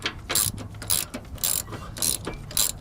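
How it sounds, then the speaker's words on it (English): Hand ratchet backing off the rear bump stop nut on a 2000 Ford Excursion, with close, loud bursts of rapid clicking repeated about five times in a steady rhythm. "Just keep on holding it up while you ratchet this nut out"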